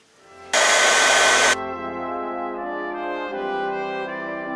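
Heat tool blowing hot air to melt embossing powder around the edges of a card, a loud steady roar switching on for about a second, then dropping to a lower constant whir with a harmonic hum.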